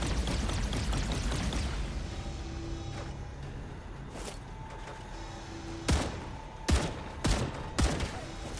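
Gun towers firing in the video game StarRupture, a dense rattling volley at first that fades, followed by several sharp separate shots and a faint tone.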